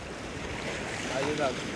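Sea waves churn with a strong current pulling the water, a short burst of surf and rushing water under heavy wind buffeting the microphone.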